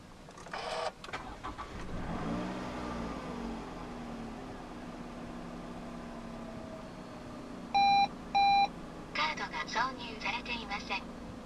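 A 2009 Toyota Vellfire 2.4 started by push button: a short whirring crank catches into a steady low idle, followed later by two electronic chimes and a series of clicks and beeps, heard close from inside the cabin.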